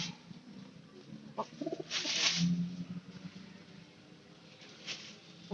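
White pigeons coo softly in short scattered bursts, faint and a little distant, with a few light knocks and rustles between the calls.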